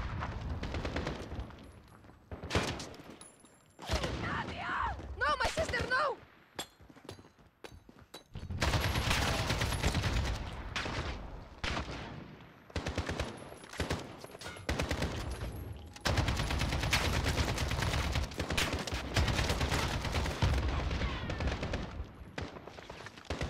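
Gunfire in Call of Duty Modern Warfare, including sniper shots: loud bursts and rattling volleys come in clusters, with dense sustained shooting toward the end.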